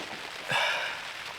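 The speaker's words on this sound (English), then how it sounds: "the rain hasn't stopped since we started, which is now it's getting a bit heavier" Rain patters steadily on a tent tarp at a rainy campsite, a soft continuous wash of drops that swells briefly louder midway, with no talking.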